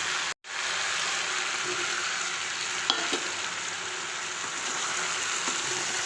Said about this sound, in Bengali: এবার সঙ্গে সবজিগুলোর সাথে মশলাগুলো সব মিশিয়ে নিচ্ছি